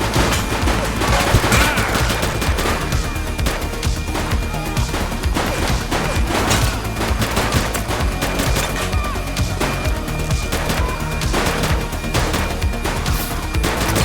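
Rapid bursts of gunfire and crashing impacts in the police video game The Precinct, loud and dense throughout with no pause.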